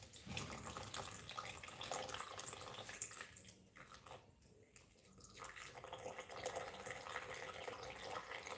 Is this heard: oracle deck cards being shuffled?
no